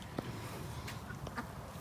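Khaki Campbell ducks give a few short, soft quacks against a steady background hum, quiet and at a moderate distance.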